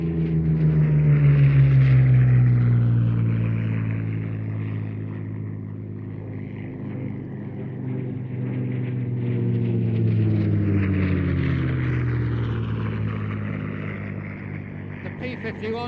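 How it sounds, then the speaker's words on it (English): A World War II P-51D Mustang warplane named Miss Helen dives past, its propeller engine droning loud at first, then fading and swelling again. A commentator talks over it throughout. "P-51D Mustang Miss Helen. Now Miss Helen is a genuine World War II veteran."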